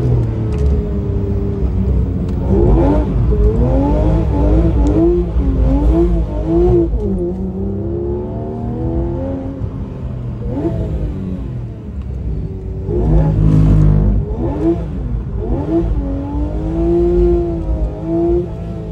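A Porsche GT3 RS driven hard on a mountain road in the Dolomites: a loud, close engine note rising and falling through repeated revs and gear changes, with sustained high-revving pulls and no talk.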